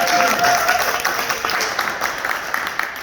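Applause breaks out at a city council meeting, with a roomful of people clapping loudly at first and then tapering somewhat while a faint voice sits beneath the clapping.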